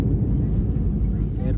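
Inside the cabin of a jet airliner landing at Goa airport, a steady low roar of engines and rushing air fills the clip, with voices talking over it.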